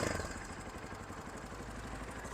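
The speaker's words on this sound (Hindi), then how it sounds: "ये इस बाइक की आइडलिंग है अभी" A Zongshen Carrera 250 adventure motorcycle engine idling up close, a steady low rumbling putter with a rapid, even pulse and no one talking.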